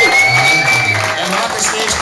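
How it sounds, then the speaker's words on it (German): A loud, dense wash of crowd noise and applause for a band leader at a group's third-anniversary music party, with voices mixed into the sustained roar. "Und wir alle sollten Uli einen Applaus geben"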